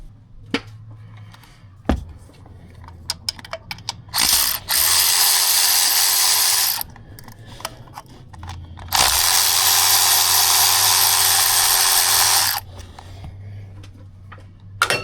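A ratchet wrench clicks on 10 mm thermostat housing bolts on a 2016 car, with scattered ticks and clicks between two long, loud bursts of continuous buzzing, close up and without talk.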